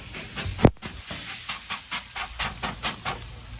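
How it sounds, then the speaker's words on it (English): A handheld bottle sprayer squirts water onto flare-ups under a Hawaiian burger on a grill, starting with one sharp hiss and then a run of short, evenly spaced spritzing pulses close by, with no voices. "So you can use one of these bottle sprayers. Just tame that fire down."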